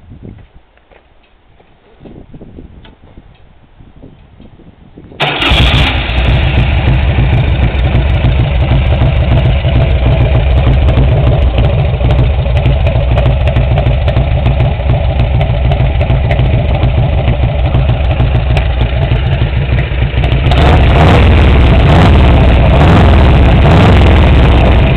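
A 2000 Indian Chief Roadmaster, S&S Gilroy edition, fires up after quiet rustling, settling into a loud, close, loping V-twin idle with a steady rumbling thump that swells even louder briefly near the end.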